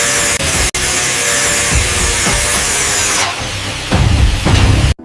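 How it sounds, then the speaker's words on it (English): A piece of metal is sawn or cut with a loud, steady, harsh rasping that runs for several seconds, then shifts to rougher, uneven strokes near the end. "he's sawing or he's cutting this piece of metal"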